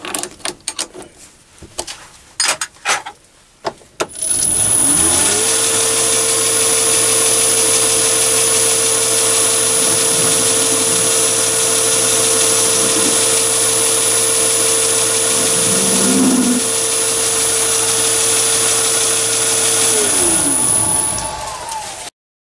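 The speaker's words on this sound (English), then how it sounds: "And now the thread chamfer on the front." A mini lathe runs steadily for about fifteen seconds while cutting a thread chamfer on the front of a part for an everlasting match lighter, with a constant loud motor whine and light cutting noise, after a few clicks.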